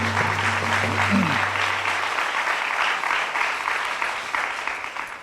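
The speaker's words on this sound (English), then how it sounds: "That is worth of applause." Audience applause fills a hall after a speech honouring an Aboriginal woman's art history doctorate, steady dense clapping that holds for several seconds and slowly tapers near the end.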